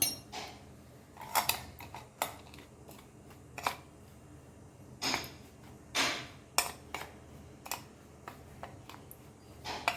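Semolina, corn flour and breadcrumbs being mixed in a bowl, irregular clinks and scrapes of a utensil against the bowl, sharp separate taps spaced unevenly over a quiet background.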